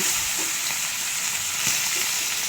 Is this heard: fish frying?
yes